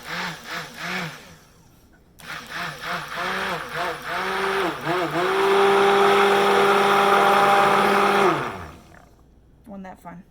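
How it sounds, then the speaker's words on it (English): A stick blender whirs in short bursts, then runs in a steady, loud high-pitched drone for several seconds while being rinsed in water during liquid goat milk soap making, before cutting off. "a bit of water so I can rinse off my stick blender"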